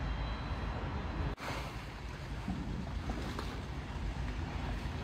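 Sea waves wash steadily along the coast at Théoule-sur-Mer, heard as a constant broadband rush with a brief sharp knock near the start and no talking.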